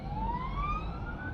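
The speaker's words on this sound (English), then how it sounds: "So many sirens in this city, it's strange." An emergency vehicle siren in a Moldovan city wails steadily, its pitch gliding slowly upward, loud and continuous over a low rumble of city traffic.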